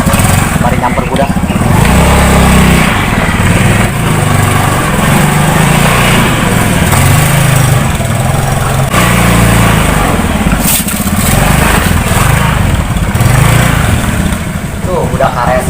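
A motorcycle engine revs and drones continuously at close range, loud and steady with rising and falling throttle surges, while people talk underneath.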